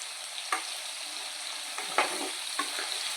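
Prawn pieces sizzle steadily in hot oil while being fried light brown for prawn pickle, with a few sharp stirring scrapes breaking through the constant frying hiss.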